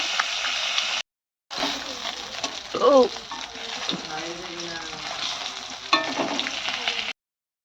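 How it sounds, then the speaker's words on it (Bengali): Fish sizzling and frying in a pan in a village kitchen, a steady crackling hiss interrupted by brief gaps, with faint stirring and a few scraping sounds. "এখানে আমার মাছটা ভাজা হচ্ছে"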